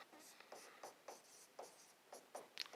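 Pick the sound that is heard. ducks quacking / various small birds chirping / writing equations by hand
writing equations by hand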